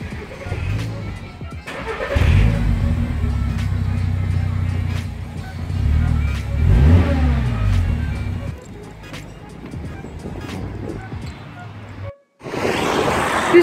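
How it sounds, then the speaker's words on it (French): A Mazda RX-8 sports car passes on a street, its mid-pitched engine note swelling for several seconds then fading, with faint voices and other traffic around it. "Plus une RX8 qui est passée là-bas."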